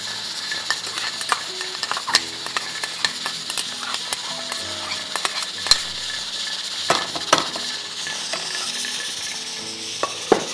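Finely chopped onions frying in two tablespoons of oil in a pan, with steady sizzle and repeated spoon scrapes and clinks of stirring, close and continuous, no talk.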